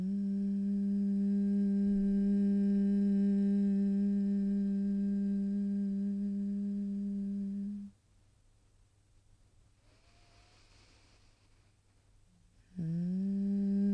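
A steady, gentle vocal hum on the exhale of Brahmari yoga breathing, held for about eight seconds, then a near-silent inhale and the hum starting again, close and clear with no talking.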